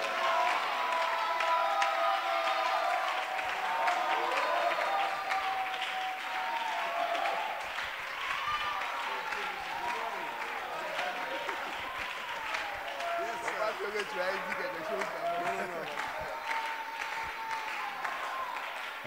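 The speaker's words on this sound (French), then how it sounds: "Est-ce qu'on peut donner une grande main d'acclamation au Seigneur?" Church congregation at a French-language evangelical service applauding and cheering for a long stretch, dense clapping with raised voices and shouts woven through, fairly distant and steady.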